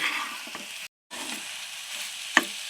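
Spinach and potato curry being mixed in a pan gives a soft, low sizzle with light scraping strokes, broken by a brief full dropout near the middle and a sharp utensil clack near the end.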